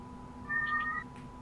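A cat meows once, a short clear call rising over a steady background hum in a quiet room.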